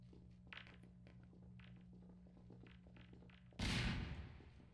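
A grenade-triggered tripwire explosion in the video game Riot Act lands as a single loud, sharp blast near the end, after a stretch of quiet low ambient hum, and then decays over a second.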